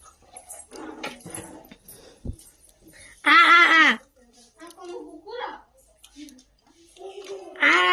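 A dog barks and whines in a few loud, harmonic bursts, with people talking around it.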